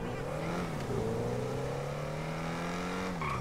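Revving XA21 supercar engine in GTA V, a steady loud drone with rising and falling pitch sweeps as it accelerates and shifts, continuous through the short stretch.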